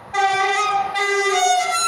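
A passing train sounds a loud, sustained two-part horn blast close by, with a brief break in the middle before the blare continues to the end.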